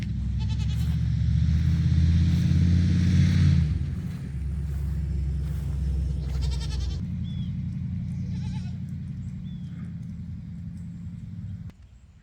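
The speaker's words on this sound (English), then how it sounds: "The goats are all doing great." Goats on a homestead bleating a few times, the calls set against a steady, loud low rumble like a nearby engine that runs almost the whole time and drops away at the end.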